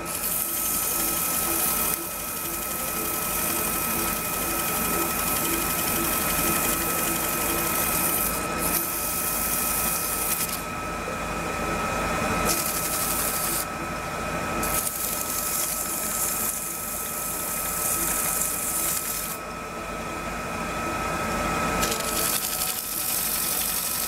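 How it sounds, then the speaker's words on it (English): A lathe spins a desk fan part while it is sanded with sandpaper, giving a steady mechanical whir with a constant hum, broken by bursts of brighter scratchy hiss as the paper presses on the turning piece. "I chuck it up in the lathe and just use some sandpaper"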